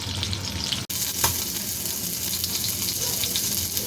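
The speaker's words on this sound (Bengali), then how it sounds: "এদিকে ভাত হচ্ছে আর এইদিকে আমি মাছ ভাজাটাও বসিয়ে দিয়েছি" Fish frying in oil, a dense continuous close sizzle with a short clatter near the start, no talk.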